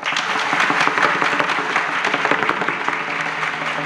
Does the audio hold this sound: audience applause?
yes